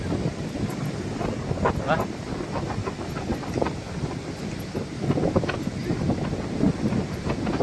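Steady roar of surf with loud waves breaking close by on a shoreline near Boracay, wind buffeting the microphone, and a brief voice speaking.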